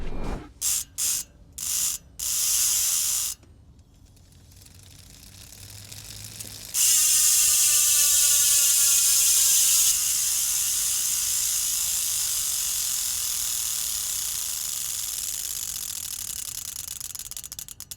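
A few sharp clicks, then a fast, buzzing ratchet whir from a spinning Elite Gnar Trail carbon mountain bike wheel freehub that gradually slows and fades, heard up close with no talking.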